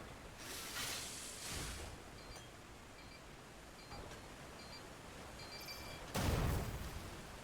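Enemy explosions in Lies of P go off as muffled, distant blasts: a couple of soft rumbling bursts early on, then a sharper, louder blast near the end, separated by a quiet, hissy lull.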